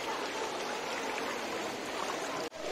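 Fast-flowing floodwater current on a market street in Silchar, Assam: a loud, steady broadband rush of churning water, continuous and close, with a brief dip near the end.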